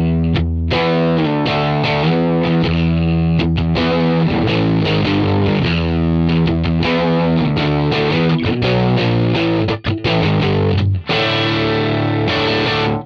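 Electric guitar played through an Axe-Fx III Fender Tweed amp model at stock settings with a room impulse, giving a loud, thick, slightly driven tone of sustained chords and riffs that fill the clip, with a brief break near the end.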